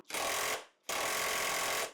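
A Robustrue 1/2-inch impact wrench hammering on a Loctite-secured bolt, two close, loud bursts of rapid rattling impacts split by a short pause, the second burst longer.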